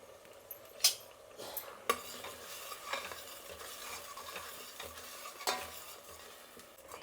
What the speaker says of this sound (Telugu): మసాలా బాగా వేయించాలండి, ఎందుకంటే మనం అంతా పచ్చి పచ్చిదే వేసాం కదా, కాబట్టి కొంచెం బాగా వేయించాలి.